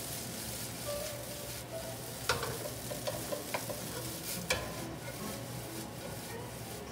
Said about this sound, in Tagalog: Ngayon, papry ko siya.